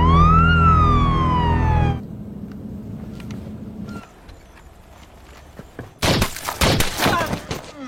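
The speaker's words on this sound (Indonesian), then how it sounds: "ia memerintahkan polisi tersebut untuk menyalakan sirine mobilnya" A police car siren from the crime thriller Sicario wails loudly in a sweeping tone, then breaks off into muffled rumbling and a burst of sharp, cracking bangs that sound like gunfire.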